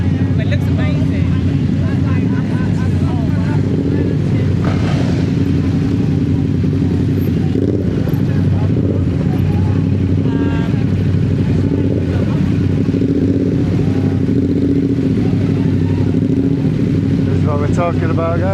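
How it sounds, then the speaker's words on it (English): Superbikes revving and riding past at the Ace Cafe, a dense, continuous engine drone with rising revs and passing bikes over crowd chatter, loud and close. "Bikes, and more bikes."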